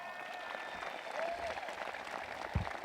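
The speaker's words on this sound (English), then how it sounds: "Give them a round of applause." Crowd at a high school graduation ceremony clapping at moderate distance, fairly faint and diffuse, with a brief whistle-like tone and a thump near the end.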